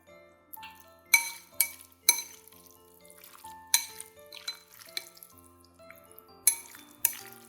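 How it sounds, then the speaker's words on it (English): Cooked noodles and sauce are stirred in a bowl with utensils, giving close, irregular clinks and scrapes against the dish, with short quiet gaps between strikes. "Now we can stir everything around until every noodle is well coated with the fragrant, spicy, savory, sour, and umami sauce."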